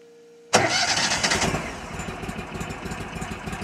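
An Argo Conquest 8x8 amphibious vehicle engine cranks and fires abruptly after a quiet hum, then settles into a steady, rough close-up idle with a rhythmic mechanical patter.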